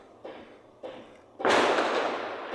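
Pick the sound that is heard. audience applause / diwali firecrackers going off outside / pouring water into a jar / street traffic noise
diwali firecrackers going off outside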